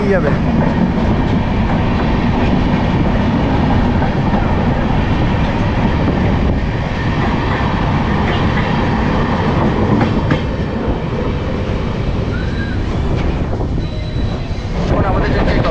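The Guwahati–SMVT Bengaluru Superfast Express passes close by on the rails, a loud sustained rumble with wheel clatter and rushing wind throughout, heard from a moving train with a voice speaking.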